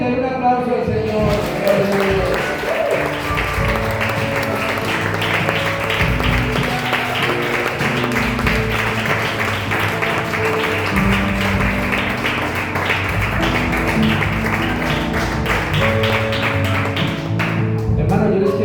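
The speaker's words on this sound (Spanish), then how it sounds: "Denle un aplauso al Señor." Congregation applause at a Spanish-language evangelical church service, a steady dense clapping wash that runs for about eighteen seconds over loud worship music and voices.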